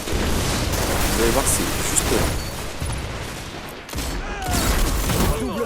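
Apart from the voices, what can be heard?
gunfire in the video game Destiny, precision kills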